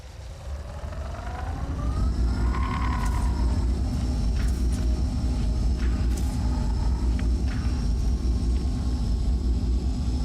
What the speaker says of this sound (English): It's obviously the engines of the ship.